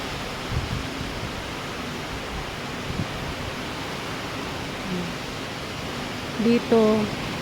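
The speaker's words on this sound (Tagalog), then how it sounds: "Lakas na ng hangin." Steady rushing wind roars broadband and constant, close to the microphone, with a brief voice near the end.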